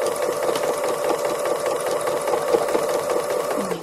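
A sewing machine stitches free-motion embroidery on a fabric cow design, whirring steadily and close up in a continuous mechanical drone with a fast, even rhythm and nobody speaking.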